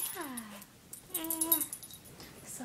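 A small dog tucked underneath a bed whimpers in two high, drawn-out whines close by, separated by brief quiet and followed by faint rustling.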